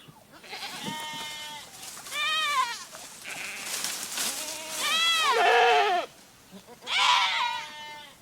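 Goats on a farm bleat loudly and close by, several long wavering calls overlapping one another with brief pauses between them.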